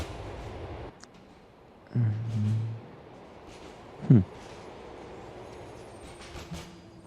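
Train ride in the Liberty City of Grand Theft Auto: a low rumbling hum of the moving carriage with a couple of brief louder clunks and thumps, no talk.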